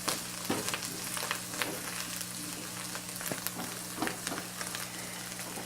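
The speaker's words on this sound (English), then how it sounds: "Ooh, listen to that sizzle." Aromatics frying in hot oil in a stir-fry pan give a steady, close crackling sizzle with scattered pops and a few stirring scrapes, no voices over it.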